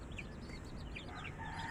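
Chickens and young chicks on a small farm cluck and peep softly in quick, scattered bursts, fairly quiet and close, with no talking.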